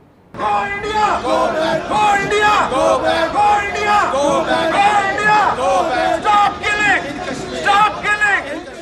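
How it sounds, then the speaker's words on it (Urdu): Kashmiri protesters outside the Indian High Commission in London chant slogans, many loud voices shouting together in a steady, rhythmic crowd roar that runs continuously from just after the start. "آزادی کے حق میں شدید نعرے بازی کی"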